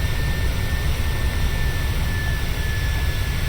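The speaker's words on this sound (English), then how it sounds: "you hear the engines winding back a little bit just to maintain speed" Boeing 737-600 jet engines in Flight Simulator 2020 spool down slightly to hold speed, a loud, steady broadband roar with a thin high whine running unbroken throughout, no voices.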